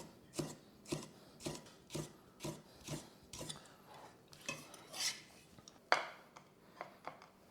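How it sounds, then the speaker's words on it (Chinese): Knife cutting halved, cored tomato into thin strips at a slanted angle on a board, about a dozen crisp rhythmic strokes close up, no talking. "然后我们再用一个比较斜的角度切丝"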